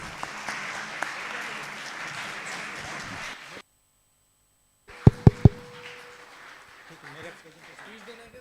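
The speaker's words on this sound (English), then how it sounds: "Please have a huge round of applause for her" Audience applause for a speaker at a medical college conference fills the hall, steady and moderately loud, then cuts to silence before a few sharp thumps and a voice over a microphone.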